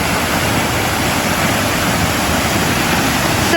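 Susan Creek waterfall in the Cascades rushing with ice and snow melt, a steady, loud, broadband roar of falling water that holds constant throughout with no voices.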